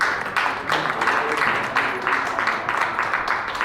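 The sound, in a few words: audience applause welcoming a speaker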